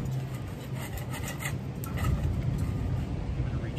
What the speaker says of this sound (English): Scrape that off a little bit